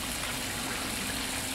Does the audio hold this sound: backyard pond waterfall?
yes